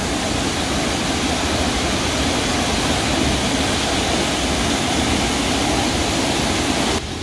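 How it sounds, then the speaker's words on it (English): Liffy Falls in Tasmania pours down in a steady, loud broadband roar of rushing water, close by and unbroken for the whole stretch. "So here's the Liffy Falls"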